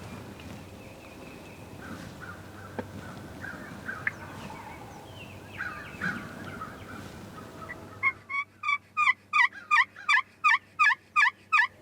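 A wild turkey gobbles during a spring turkey hunt, first as faint distant calls under woodland ambience, then a run of about eight loud, evenly spaced rhythmic bursts close by.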